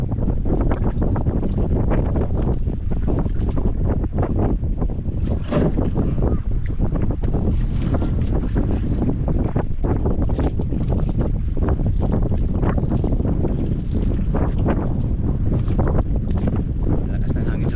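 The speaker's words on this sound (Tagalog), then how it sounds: "Lakas ng hangin sa labas Joy." Strong wind blows outside, a loud, constant roaring buffet with gusty texture that fills the whole stretch and never lets up.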